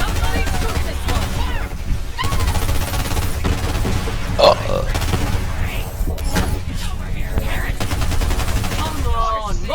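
Borderlands 3 video game gunfire crackles in dense, continuous bursts and rattling volleys. A voice shouts loudly over the shooting throughout.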